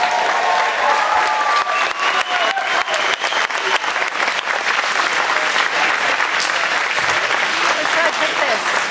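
A jazz concert audience at an outdoor Jazz Under the Stars show claps for a guest artist, a sustained, full burst of applause with some crowd noise, holding steady and loud throughout.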